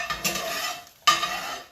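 Potatoes cooking in a cast iron skillet for breakfast, a close, steady sizzle with scraping stirs, two bursts of louder frying about a second apart.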